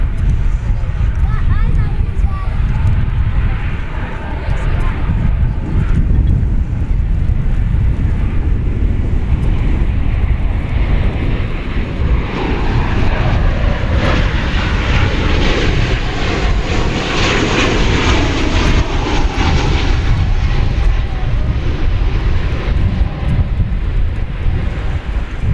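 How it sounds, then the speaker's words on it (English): A jet airliner arriving from Santa Ana at Dallas Fort Worth airport roars loud and steady, a broad engine rumble with wind buffeting the microphone throughout, rising slightly in hiss midway as it passes close by. "So this is the flight from Santa Ana first."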